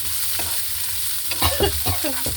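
Salt roasting in a pan, a steady hiss overlaid by several quick scraping stirs in the second half, close and without speech.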